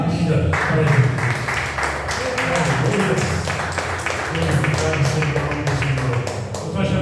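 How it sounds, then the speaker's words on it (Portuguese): Congregation clapping for Jesus at an evangelical church service, a steady dense wash of many hands sustained across the whole stretch, fairly loud and close. "uma salva de palmas bem linda para Jesus"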